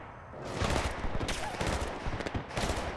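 Battlefield: Bad Company 2 gunfire rattles in loud, dense bursts, with rapid automatic shots and overlapping distant reports forming a sustained fusillade close to the listener.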